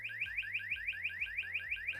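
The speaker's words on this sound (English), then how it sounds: "The alarm can be set to a couple different modes, where regular is a typical alarm sound," A mmWave presence sensor's 120-decibel alarm in regular mode gives a loud, steady run of rapid electronic chirps, each a sweeping tone repeating about every sixth of a second, with no voices.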